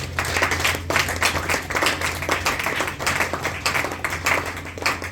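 A church congregation breaks into steady, sustained applause and clapping to acclaim Jesus, a dense, lively patter that holds fairly loud throughout.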